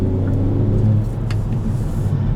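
A 2021 Kia Forte GT with an automatic transmission driving along, giving a steady, close engine hum and road rumble heard from inside the car with no talking.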